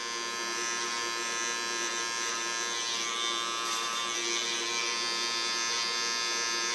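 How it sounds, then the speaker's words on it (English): An electric bowl clipper buzzes continuously and close up while cutting fine hair for a platinum pixie, a steady loud hum with slight variations as it moves over the head. "It's a bowl clipper."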